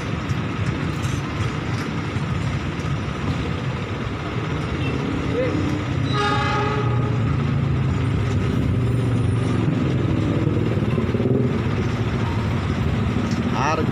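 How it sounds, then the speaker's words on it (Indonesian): The Argo Sindoro passenger train passes with a continuous loud rumble and rail clatter, a horn-like tone near the middle, while people talk nearby. "Wah, dapat Argo Sindoro."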